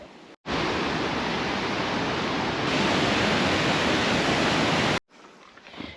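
Rushing water from a waterfall in New Zealand, heard up close while climbing it, a loud, steady broadband roar that fills nearly the whole clip, cutting off sharply at both ends.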